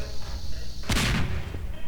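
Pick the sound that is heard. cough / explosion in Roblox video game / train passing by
explosion in Roblox video game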